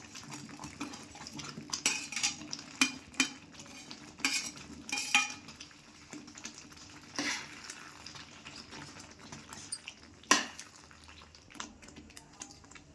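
Paneer goes into a simmering peas masala in a pan, with clinks of a metal spoon against the pan and scattered stirring scrapes over a quiet background, close and intermittent.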